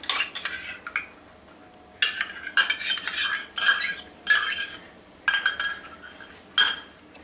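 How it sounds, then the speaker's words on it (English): Cookie batter being mixed with curd in a bowl, bursts of rapid metallic whisking and scraping against the bowl separated by short pauses, close and fairly loud; no talking. "I'm going to mix it."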